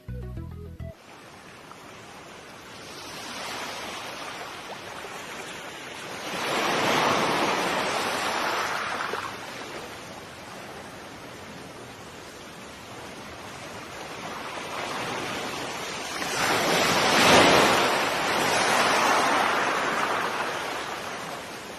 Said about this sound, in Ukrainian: Ось так шумить морський прибій.